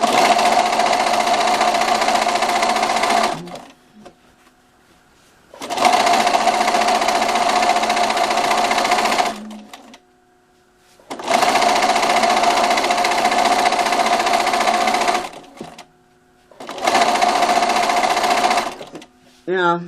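A sewing machine stitches quilt binding in four long runs of steady, loud whirring, each lasting a few seconds and separated by short pauses.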